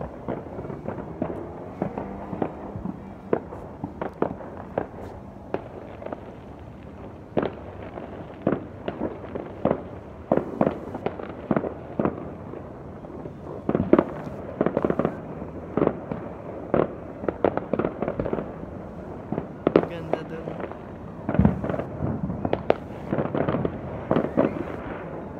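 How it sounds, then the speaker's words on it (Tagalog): New Year's Eve fireworks and firecrackers burst all around, a steady barrage of sharp cracks and pops, some close and loud, others farther off, continuing without pause. "See the fireworks all over the world."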